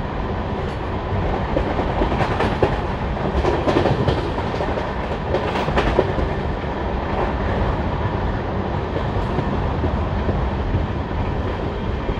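The Lalkuan–Howrah train runs at full speed, a steady loud roar of wheels on rail with rhythmic clickety-clack beats throughout, close and continuous with no voices.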